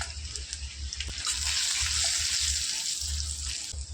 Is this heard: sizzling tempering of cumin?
yes